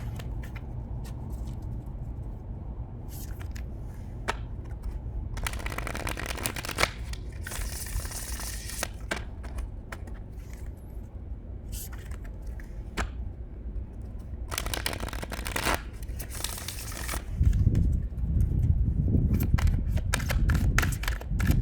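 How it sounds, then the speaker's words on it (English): Tarot cards being shuffled by hand in repeated bursts of crisp riffling and patter, fairly close and steady, with no talking over it. "Give it a few shuffles."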